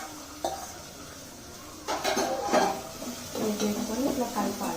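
Gongura leaves stirred into tomatoes in a pan: a sharp utensil clink, then bursts of scraping and stirring against metal, close and moderately loud.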